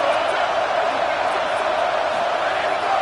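A football stadium crowd roars steadily and loudly in support of the defense during a goal-line stand, a dense unbroken wall of cheering with no clear individual voices.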